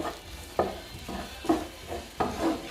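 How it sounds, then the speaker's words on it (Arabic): Two chopped onions sautéing in oil in a pan, a steady sizzle broken by three distinct scraping stirs spaced roughly a second apart, close and alone. "2 بصلات مشلضين، وغادي نشحره"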